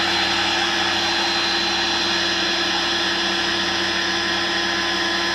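Heat gun running on its dryer setting, blowing hot air over curing epoxy in a workshop, a steady, loud, unbroken whooshing drone with a constant motor hum underneath, no voices.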